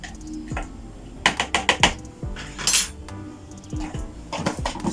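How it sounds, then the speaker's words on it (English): Egg and pancake batter being stirred in a bowl, with a run of sharp clinks and scrapes of a utensil against the dish, close and fairly loud, in quick bursts separated by short pauses. "you make sure you stir them a little bit so they can mix properly"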